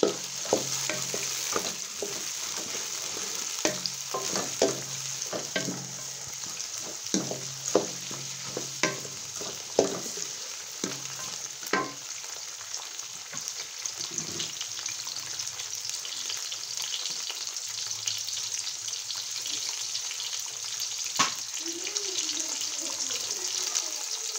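Peas tipped into a pan of carrots and potatoes already frying, steady sizzling broken by repeated sharp spoon scrapes and stirs, close and even over a long stretch, with a brief voice in the middle.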